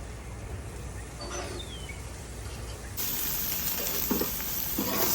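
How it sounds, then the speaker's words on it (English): Chicken pieces being flipped and grilled on a Spark Grill give a faint steady sizzle that gets louder partway through, with a few soft clunks and scrapes from turning the meat. "So I'm gonna start to flip these over and just cook the other side."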